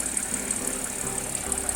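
A 2012 Audi A7 Quattro with a supercharged engine idles steadily with a faint knock and vibration, a continuous low, even hum with a hiss overhead and no talk.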